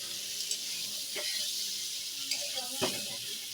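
Prawns, potato and pointed gourd frying with spices for a thin curry, giving a steady close hiss of oil with a couple of brief scraping stirs.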